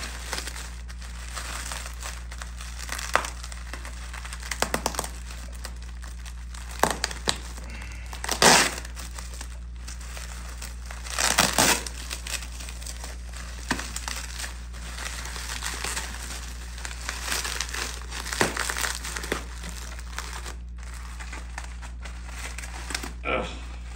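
Tape and packaging are pulled and peeled off a newly arrived clock, giving intermittent crinkling, ripping and crackling bursts up close over a low steady hum, with a few louder tears, and a person talks at times.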